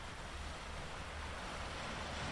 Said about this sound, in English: The waves below fold into one another, steady as sleep itself.